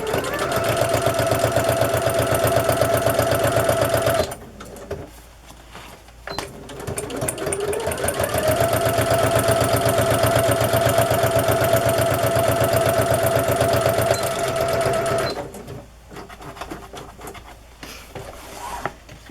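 Sewing machine stitching a vintage Milton Bradley Quizmo math card onto a handmade stash-buster journal as a tuck spot, a loud steady run of about four seconds, a pause with small handling noises, then a longer steady burst of roughly eight seconds.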